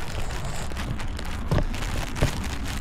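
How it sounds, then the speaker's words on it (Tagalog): Rain falling in Antalya, Turkey, a steady hiss of drops on surfaces with a couple of louder splashes or knocks, close and continuous. "and it's raining"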